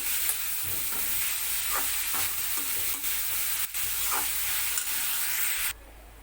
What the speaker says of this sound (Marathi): थोडं तुपामध्ये परतून घेते मी।